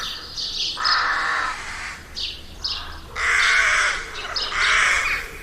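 A crow caws loudly and repeatedly in harsh bursts, close by, against a faint outdoor background.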